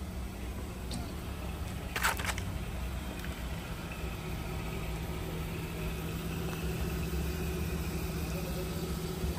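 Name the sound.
Hyundai Accent car engine idling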